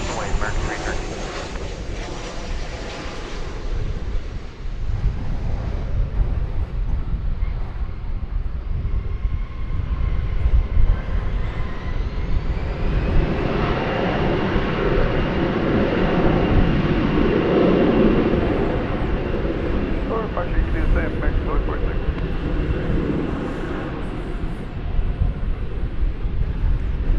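A jet airliner roars down the runway on takeoff at DFW Airport, a loud sustained engine rumble rising in pitch, with distant radio chatter underneath.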